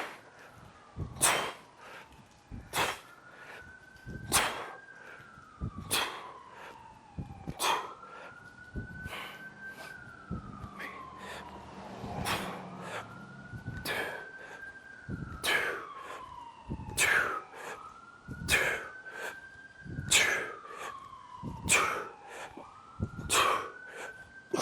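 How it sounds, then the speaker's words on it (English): An emergency vehicle siren passes outside, wailing in repeated rising and falling sweeps at moderate distance, while sharp, evenly spaced thuds sound nearer by. "If you can hear that siren, I'm sorry."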